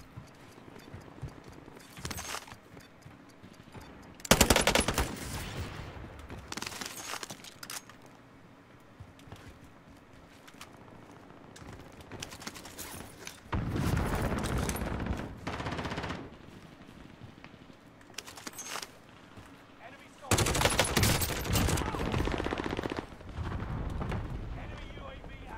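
Automatic gunfire in Call of Duty Warzone on Rebirth Island comes in three loud sustained bursts of several seconds each, with quieter scattered shots and a talking voice between them.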